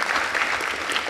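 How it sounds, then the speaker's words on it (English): Applause at a council meeting, a room full of hands clapping in a steady, dense patter at moderate volume. "Rounds of applause for Sydney."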